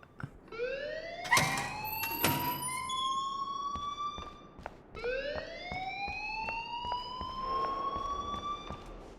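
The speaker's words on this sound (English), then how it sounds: "please turn off that alarm since that's your job" Alarm in the Life is Strange video game, rising electronic sweeps that repeat in pulses, loud and close, with a pause partway through before the wailing resumes.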